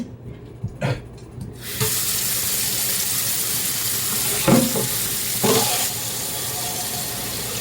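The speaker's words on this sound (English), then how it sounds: "I always rinse off the little bloody meat tray before I throw it in my garbage can" Water from a kitchen sink faucet runs steadily over a meat tray being rinsed, with a couple of brief splashing bursts as the tray shifts under the stream, near and loud with no talk.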